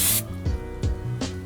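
Brake cleaner sprayed onto a freshly installed front axle actuator on a truck: three short, loud aerosol hiss bursts, each roughly a third of a second, separated by brief pauses with no talking.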